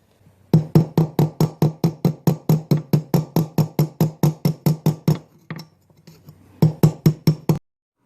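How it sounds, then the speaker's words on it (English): Ball peen hammer tapping the crimped edge of a Kohler engine's shower cap exhaust muffler, a quick even run of about twenty sharp metallic strikes, a short pause, then a few more, close and loud with no talking. "then with the ball peen hammer just to smooth it out"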